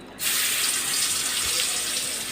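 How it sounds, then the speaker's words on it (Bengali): Fish frying in hot oil for a Bengali tita shak curry: a loud, steady sizzling hiss starts abruptly and continues without a break. "তাই তেলটা আমার হয়ে গেছে গরম, এখন আমি মাছটা ভেজে নিই।"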